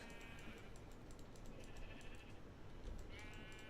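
Sheep in a Minecraft-style video game bleat several times, faint, short and nasal, over a steady noisy background.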